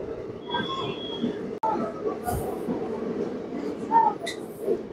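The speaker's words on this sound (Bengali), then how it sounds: "ব্ল্যাক ডায়মন্ড এক্সপ্রেস বরাকর থেকে ধানবাদ চলে যাবে" The Black Diamond Express stands at Barakar station with a low rolling rumble, brief wheel squeals and one sharp metallic clank, while faint voices carry on the platform.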